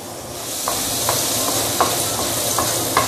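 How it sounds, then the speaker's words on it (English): Chopped garlic sizzling in hot oil in a wok for fried rice, a steady close frying hiss broken by several soft scraping stirs of a spatula. "Let me add more oil here. My chopped garlic, about 1 tablespoon."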